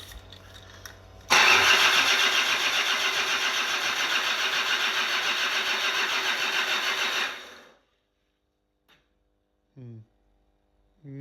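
A Land Rover engine cranks on its first start attempt, a loud, steady rhythmic churning for about six seconds that stops without catching, followed by near silence and a couple of faint clunks.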